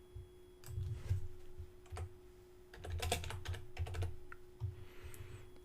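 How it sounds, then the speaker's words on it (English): Typing on a computer keyboard while editing web page text with the Divi theme, soft key clicks in short irregular bursts, close and quiet, over a faint steady hum. "and I'll type my new text."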